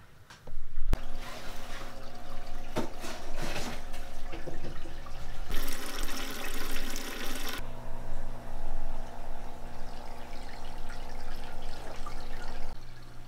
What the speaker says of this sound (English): putting in some water to acclimate the fish, the water that he's got in the tank